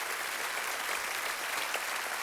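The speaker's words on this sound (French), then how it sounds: "je voudrais qu'ils applaudissent le boulot qu'on fait dans les années bonheur" Audience applause, a dense, even patter of many hands clapping at a moderate level, continuous throughout.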